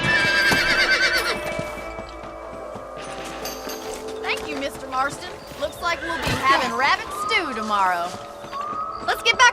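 Horses whinny and snort repeatedly over clip-clopping hooves in Red Dead Redemption, with game-like ambience and tonal background sounds; a voice speaks briefly.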